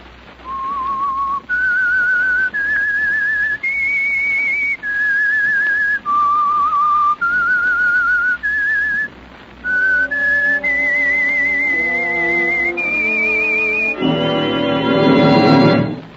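A slow whistled tune, the signal theme of the 1949 radio drama The Whistler, with long, clear held notes rising and falling steadily, and fuller accompanying music swelling in near the end.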